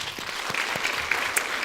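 Applause from an audience at a community conversation honoring Dr. Robin Wall Kimmerer, a steady wash of clapping hands with no voices.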